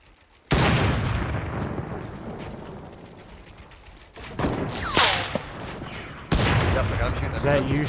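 Gunfire in the video game Fortnite, dense crackling bursts of shots that stop and restart several times, loud and close, with some game effects mixed in.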